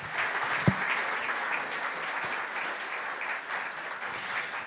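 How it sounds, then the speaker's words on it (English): Audience applause for founding partners at a maritime innovation hub kick-off in Antwerp, a steady, moderately loud patter of many hands with one sharp thump early on. "thanks and a round of applause to our founding partners"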